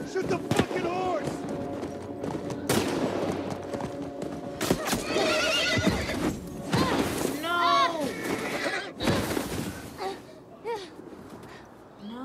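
Horses neigh and whinny with clip-clop hoofbeats in The Last of Us Part I video game, a chaotic stretch with gunfire-like bursts and shouting voices over the animal calls.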